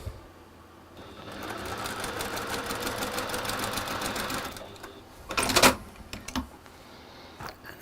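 A sewing machine stitching fabric squares along a drawn diagonal line, a fast steady mechanical whir for about four seconds, followed by a few brief handling clicks and rustles.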